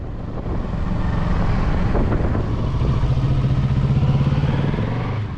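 Motorcycle riding slowly through a slalom warm-up between pylons at a training session, its engine droning steadily and close throughout, with wind buffeting the microphone and no talk.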